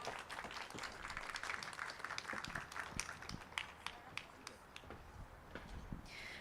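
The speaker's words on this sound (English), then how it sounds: "Can we get a round of applause for our talented panel?" An audience at a tech network event in Los Angeles applauds a panel, with steady, fairly faint clapping from many hands that continues for several seconds, with no talking over it.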